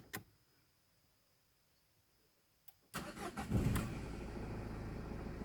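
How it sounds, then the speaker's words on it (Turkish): A 2013 Dacia Duster with 63,000 km is started in neutral: after a few faint clicks, the engine cranks and catches, then settles into a steady, fairly loud idle close by. "Bir çalıştıralım aracımızı boşa alarak."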